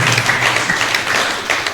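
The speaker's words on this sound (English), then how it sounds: "Donc applaudissons pour le Seigneur Jésus-Christ pour ces merveilles." A church congregation applauds together, a steady, dense patter of many hands clapping at moderate loudness for a couple of seconds.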